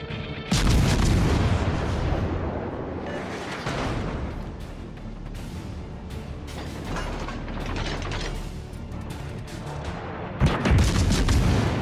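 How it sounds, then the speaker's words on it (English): Warship artillery in World of Warships Legends fires in heavy booming salvos with mechanical clanking between them, loud bursts near the start, around four seconds and again near ten seconds. "All stations, concentrate fire on that target."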